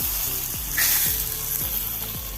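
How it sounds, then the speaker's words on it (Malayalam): A hot tempering of curry leaves and broken dried red chillies hisses and sizzles steadily as it is poured into a tomato and okra curry, with soft rhythmic clinks from the pan throughout. "വറവ് റെഡിയായി നമ്മൾ കറിയിൽ ഒഴിച്ച് കൊടുക്കാം"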